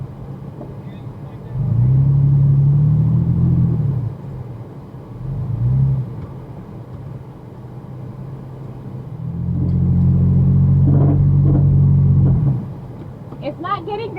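An off-road vehicle on highway tires strains up a sandy hill at Black Mountain near Rocky Point, Mexico, with two long, loud engine-revving bursts and low rumble between quieter idling, with voices nearby.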